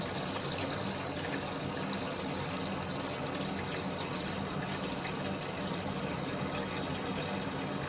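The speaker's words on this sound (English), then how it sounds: "And we'll keep filling" Water pours steadily into a bucket, a loud, unbroken rushing hiss that holds constant from start to finish with no pauses.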